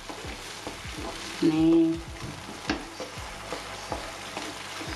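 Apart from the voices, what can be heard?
stir-frying minced chicken, bubbling in the pan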